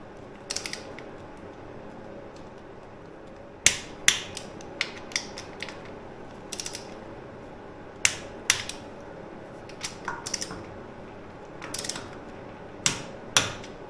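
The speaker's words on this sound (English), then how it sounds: "Torque wrench setting, 12 Newton meters." Ratcheting clicks of a torque wrench set to 12 Newton meters, tightening a bolt during an oil and filter change on a Royal Enfield Himalayan motorcycle; sharp mechanical clicks come in irregular bursts over a steady low hum, close up.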